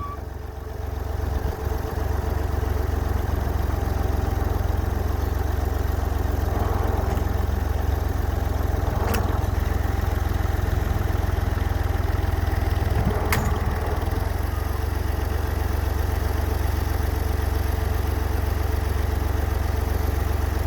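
Tractor engine idles steadily throughout, a constant low rumble with a few brief sharp clanks breaking through, no talking.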